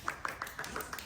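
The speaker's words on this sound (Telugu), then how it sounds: "క్లాప్స్ అందరికి." Six or so soft hand claps at an even pace from a small group at a birthday celebration at a barbecue restaurant, faint and close.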